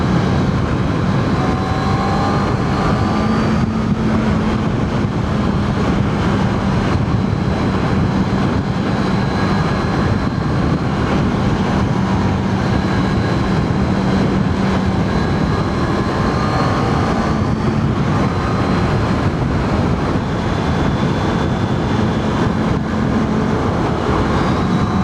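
A Honda CBR650R inline-four motorcycle is ridden hard, its loud engine holding a steady, sustained roar under heavy wind rush, with the pitch rising and falling slightly through the revs.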